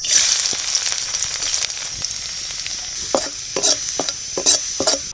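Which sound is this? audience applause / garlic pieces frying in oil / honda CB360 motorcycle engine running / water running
garlic pieces frying in oil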